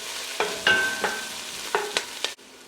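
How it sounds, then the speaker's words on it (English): A spoon stirs a pot of vegetable wild rice soup with fresh thyme, giving several short scraping, knocking strokes against the pot over a soft simmering sizzle, close and alone. "Give that a quick little stir."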